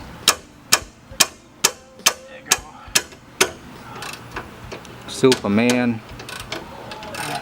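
A socket wrench on a 19mm socket clicks in a steady series of sharp ratchet strokes while breaking loose a rear brake bracket bolt on a Nissan Xterra, followed by a brief voice and a metallic rattle.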